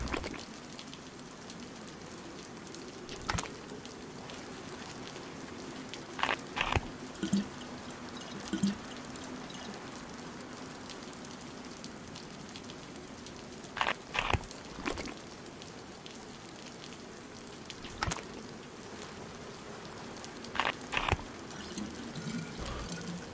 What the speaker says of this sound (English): Just sit here and fill the car up until it stops raining.